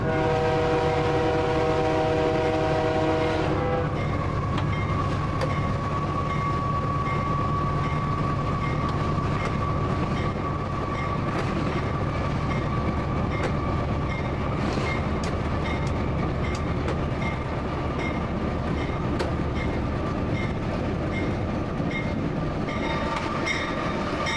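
A freight train rolls along at night, heard from the cab as a steady loud rumble and rattle of wheels, opening with a sustained multi-tone horn blast as it passes a westbound train.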